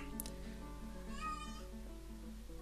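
A cat meows in Dwarf Fortress, a video game, giving a short series of mewing calls over a steady game music bed. A brighter, louder meow rises near the middle.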